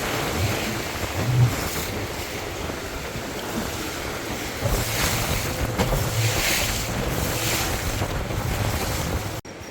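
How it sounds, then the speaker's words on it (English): Powerful river rapids rush in a steady, loud roar close by, with heavy wind buffeting the microphone throughout and no voices heard. "this is a portion where the rapids will be extremely high and powerful"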